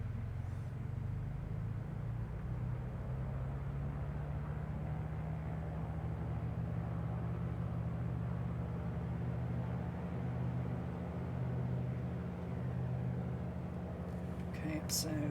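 A light aircraft engine is run up to about 2,000 RPM on the ground, a close, steady low-pitched drone that holds constant throughout, with low talk faintly beneath it.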